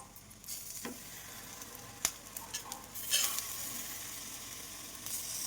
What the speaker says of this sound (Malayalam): വൺ സൈഡ് ഫ്രൈ ആകുമ്പോൾ നമുക്ക് തിരിച്ചിടാം